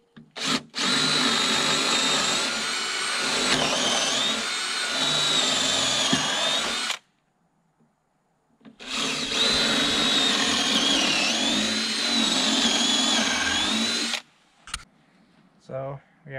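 A power drill bores into picnic table wood in two long, loud bursts of whining motor and bit grind, each around six seconds, separated by a short pause and followed by brief clicks.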